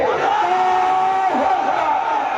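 Married men in a crowd at a Bengali Islamic waz mahfil shouting the takbir together, one loud sustained chant that wavers and then falls away.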